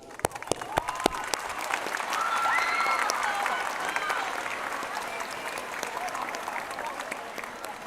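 Audience applause at a school Moving Up Day ceremony, starting with a few scattered claps that swell into steady clapping from a crowd, then gradually thinning, with a few voices calling out, recorded somewhat distantly.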